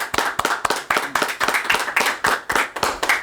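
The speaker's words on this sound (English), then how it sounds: "a round of applause" A small group claps hands for a few seconds in a casual sports-talk podcast setting, sharp irregular claps packed close together, near and fairly loud, with no talk over them.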